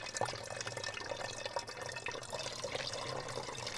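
Water from a liter pitcher trickles and splashes steadily as it is poured back into an enhancer bottle, a soft continuous flow at close range with no talking.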